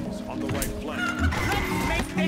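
A video game chicken attack gives out a quick burst of squawking, honking fowl cries, close and busy over a couple of seconds, mixed with other game sounds.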